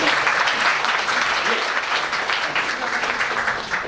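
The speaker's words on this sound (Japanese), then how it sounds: "拍手。" A room full of people applauds, a dense steady wash of clapping that holds for a few seconds.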